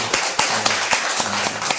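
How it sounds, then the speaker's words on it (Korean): A church congregation at a New Year's Eve service clapping in a loose, uneven rhythm, scattered hand claps fairly close and moderately quiet, with no voices over them. "수고하셨는데 우리 박수로"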